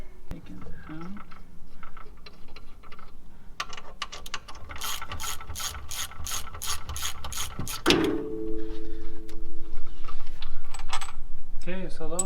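A ratchet clicks in a fast, steady run while bolts are backed out during a KRX clutch kit install, followed by metallic clanks and a brief ringing tone as parts are handled, with shop noise underneath.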